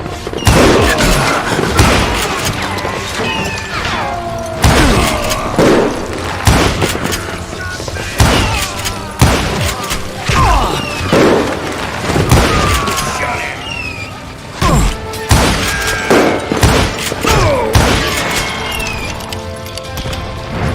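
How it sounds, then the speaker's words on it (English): Gunfire from the western shooter Call of Juarez: Gunslinger, with loud booming shots and crashing impacts repeating throughout over a dense game score, without speech. "Shoot him! Shoot him!"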